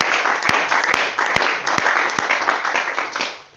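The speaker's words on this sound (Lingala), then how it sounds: "J'aimerais qu'on acclame pour le Seigneur Jésus-Christ." A church congregation applauding and cheering in worship, a dense, steady burst of clapping with a few sharp claps standing out, fading slightly at the end.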